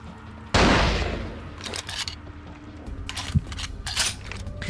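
A single loud sniper rifle shot in Vampire: The Masquerade - Bloodlines cracks early and decays over about a second, followed by scattered quieter clicks and mechanical rattles.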